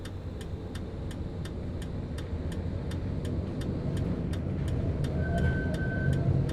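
Steady city car traffic rumbles in the video game City Transport Simulator: Tram during a night drive in a Type D tram, a continuous low engine drone with a regular ticking, like a turn indicator, running throughout.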